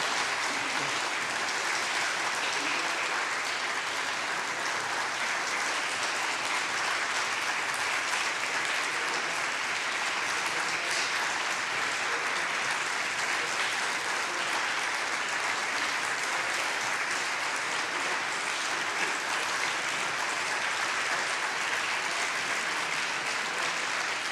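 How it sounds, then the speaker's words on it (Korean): A church congregation claps steadily through a blessing service for students facing exams. The dense, even applause runs without a break from start to finish while the students file down one by one. "저 마지막 아이가 내려갈 때까지 우리는 계속 박수 쳐주는 거예요"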